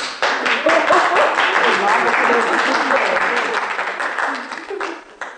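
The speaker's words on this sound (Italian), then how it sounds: "vi ho già detto che non amo sentire i vostri applausi" Steady, loud applause from a crowd rises quickly and keeps going, then fades slightly toward the end. Voices can be heard mixed in with the clapping.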